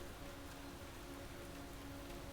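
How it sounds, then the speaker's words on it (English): Rain from the weather effect in the Space Engineers video game hisses in a steady, soft, dense patter with faint tonal hum beneath, quiet and continuous throughout. "In the rain."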